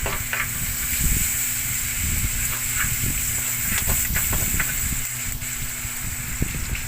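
Oil sizzles steadily in a pan while sautéing for laing, a Filipino taro-leaf dish in coconut milk, with a continuous bright hiss broken by small pops and crackles and low rumbling underneath.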